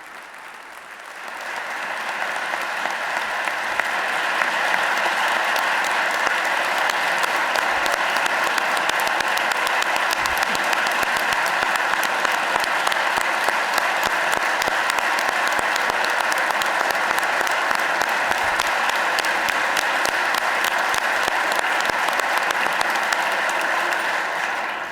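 A large audience at a state budget address in Pennsylvania breaks into loud, sustained applause that swells within the first seconds and holds as a dense, even roar of clapping for more than twenty seconds.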